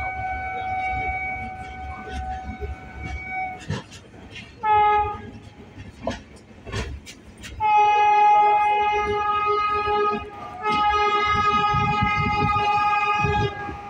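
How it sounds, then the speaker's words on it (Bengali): The Samudrakanya Express pulls into Panskura station with rumbling wheels and repeated loud horn blasts, some long and sustained, between quieter stretches of rolling noise. The horn is nearby and dominates the sound. "পাঁশকুড়া ঢুকছে এখন, একদম রাইট টাইম ট্রেন"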